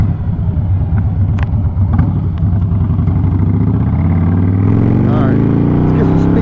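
A 2008 Harley Davidson Crossbones rumbles along on the road, its deep engine note rising steadily as it gathers speed, heard up close with wind noise and someone talking over it.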